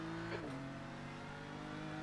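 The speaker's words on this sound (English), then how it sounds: "There's a faster class car approaching." In the iRacing sim at Fuji, a BMW M4 GT3's engine drones loud and steady as a faster-class race car closes in, with a brief pitch dip early on and no talk.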